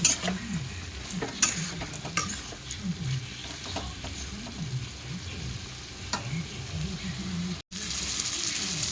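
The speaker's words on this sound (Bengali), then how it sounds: "আলুটা দিয়েও ভালো করে কষিয়ে নেবো" Fried potatoes being stir-fried into spice paste for a Bengali bhetki fish curry with eggplant, with a continuous close sizzle and a rhythmic, repeated scraping of a spoon around the pan, plus occasional light clicks.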